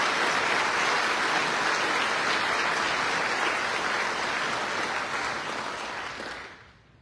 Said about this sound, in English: let's give a round of applause for all World War II Ranger veterans